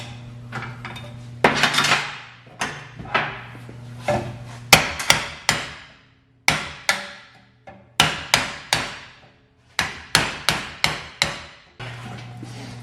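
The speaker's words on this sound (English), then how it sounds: "So I had to smash the whole bushing and open it up." A hammer smashes a worn control arm bushing from a Honda CR-V or Civic, delivering loud, sharp metallic blows in irregular bursts of two to four strikes, each ringing briefly before the next, close up and alone.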